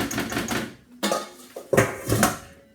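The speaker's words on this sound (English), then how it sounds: "Just taking it from the sides, mixing it around" Spoon scraping and knocking against a mixing bowl while combining flour and cocoa for chocolate pies, with a series of close clattering strokes and scrapes separated by short pauses.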